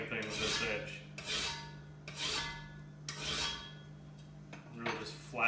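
A metal file rasps across the edge of a card scraper clamped in a vise between aluminum angle jaws, about five long strokes in a steady back-and-forth rhythm, close and alone under a faint low hum.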